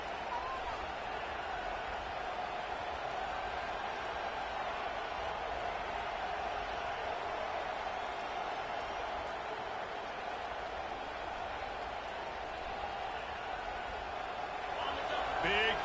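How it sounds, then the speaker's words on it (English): A packed Austin stadium crowd roars on third down in the College Football 26 video game, a continuous distant wall of cheering that swells slightly toward the end, with a commentator talking over it. "How can a stadium this size make so much noise?"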